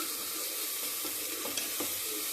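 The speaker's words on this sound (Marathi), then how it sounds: "आपण जो मिक्सरमध्ये वाटलेला मसाला असतो तो टाकून घ्यायचा आहे आणि मस्त गुलाबीच्या रंगावर परतून घ्यायचा" Ground spice masala for a quick Maharashtrian brinjal curry fries in hot oil with a steady, close sizzle and occasional soft scrapes of stirring, with no voices.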